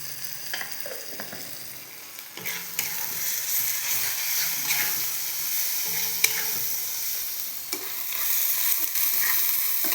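Onion fries in a pan with turmeric, chilli and cumin, giving a dense, close sizzle throughout, with repeated stirring scrapes and clinks of a spoon against the pan.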